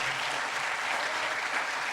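A large audience gives steady, dense applause for the Chocolate Hunters at a cacao event, an even wash of clapping heard at a moderate distance and fairly quiet.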